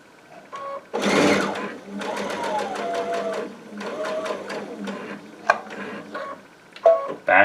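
A Baby Lock Altair sewing machine stitches quilt binding in a rapid, steady mechanical whir that starts and stops in several bursts, with a few sharp clicks and a short pause near the end.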